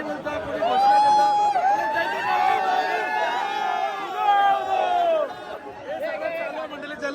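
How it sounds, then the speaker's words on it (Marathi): A dense crowd at the Ekvira Aai palkhi procession, many voices shouting and chanting together in a loud, close, sustained roar of overlapping calls. "असा काहीसा जल्लोष चालू आहे. म्हणजे एवढा खतरनाक जल्लोष चालू आहे."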